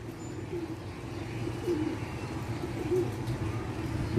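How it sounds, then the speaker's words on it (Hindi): Pigeons circle overhead in a Karachi pigeon-flying contest while soft cooing carries, several low throaty calls repeating over a steady outdoor hum, moderately close and unaccompanied by talk. "तो कबूतर घूम रहे हैं"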